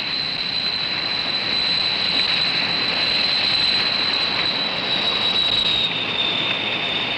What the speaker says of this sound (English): We'll start up the engine.